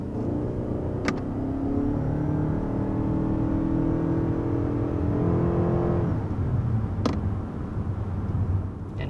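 A 2022 Lexus ES 300h F-Sport hybrid rolls along at speed with its engine off, a low steady road and tire hum with faint whirring inside a quiet cabin.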